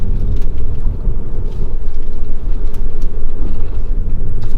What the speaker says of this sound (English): in an acceleration position like I am right now, you could feel it really pulling